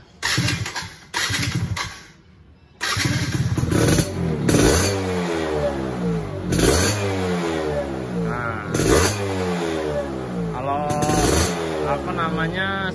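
A Yamaha F1ZR motorcycle's two-stroke engine runs during carburetor tuning, close and loud, with repeated throttle blips rising and falling in pitch after a brief pause near the start.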